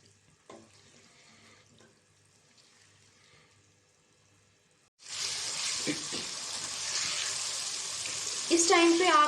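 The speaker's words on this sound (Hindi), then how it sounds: "2 मिनट के लिए हम इनको अच्छे से फ्राई करेंगे" Vegetables for chicken jalfrezi hit a hot pan with a sudden loud, steady hiss that starts midway after a quiet stretch, swelling near the end with scraping and clatter.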